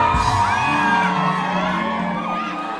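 A television studio audience whoops, shrieks and cheers loudly at a handsome man, a dense, sustained wall of crowd voices close by with no talk over it.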